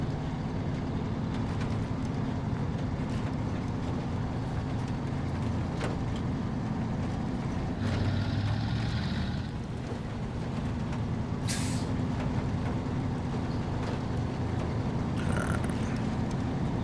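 A heavy truck in SnowRunner grinds through mud, its engine droning at a steady, moderate level throughout, with a brief air-brake-like hiss partway through.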